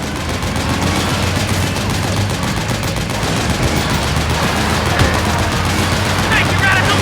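Continuous dense gunfire and battle noise fill a firefight in Metal Gear Solid 4, steady and moderately loud throughout, with shots blending into a constant rattle.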